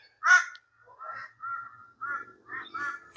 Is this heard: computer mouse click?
no